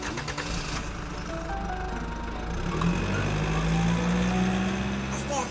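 A motorbike engine runs nearby with a steady drone that rises in pitch midway as it revs, while people talk over it.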